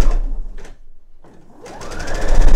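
Sewing machine runs over the first row of stitching on an eye pillow seam, a loud rapid whirring burst, a brief pause with a short stitch, then the motor speeds up again, close and alone.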